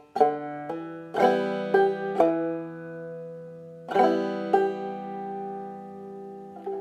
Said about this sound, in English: And then we're going to hit the 4th string again.